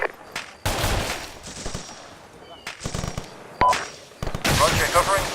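Bursts of covering gunfire from a section of soldiers, loud automatic fire in several clustered volleys with sharp cracks, close by, with voices calling out between and under the shooting.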